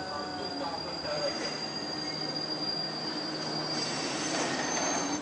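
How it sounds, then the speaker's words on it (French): An RER commuter train's wheels squeal loudly and steadily as it runs on the rails, a sustained high metallic whine over a rumbling roar with no clear talk. "Là, c'est le RER, d'accord."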